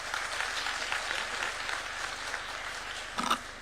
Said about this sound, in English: Another round of applause for Professor Patrick